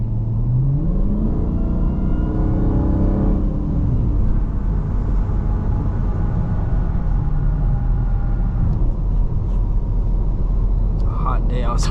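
A 2023 Dodge Charger SRT Hellcat Jailbreak Widebody rumbles loud and close from inside the cabin, its engine note and supercharger whine climbing as it accelerates, then settling into a steady cruising drone, with a voice talking over it.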